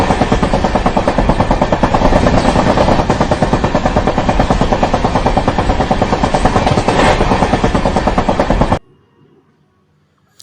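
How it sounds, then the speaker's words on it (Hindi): Indian Railways train running at night, heard from inside the coach: a loud, steady rumble with rapid rhythmic clatter that continues without a break for about nine seconds, then cuts off to near silence. "ये रात के समय ये ट्रेन में ट्रैवल करते हुए ये आवाज़ है"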